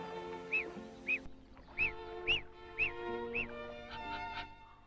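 A lone duck, raised apart from others of its kind, gives a run of about eight clear, nasal quacks at uneven intervals over a faint steady background hum.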